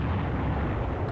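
A deep, rumbling bomb explosion in a World War II Operation Sealion wargame fills the whole moment with dense, heavy low-end roar, continuous and loud without any speech.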